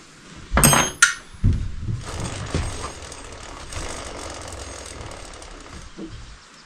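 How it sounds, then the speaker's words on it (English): A wrench ratchets the lock bolt tight on a 2023 Honda Trail 125 motorcycle with a few sharp, close metallic clicks and knocks at the start. Quieter mechanical handling follows and fades down. "Give it a little snug on that lock bolt."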